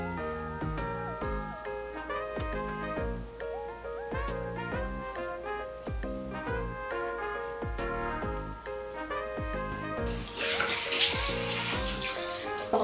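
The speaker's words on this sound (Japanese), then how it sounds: "顔を洗います。" Water runs in a bathroom as a face is washed with soap, a loud broadband rush arriving only in the last few seconds and partly covered by steady background music.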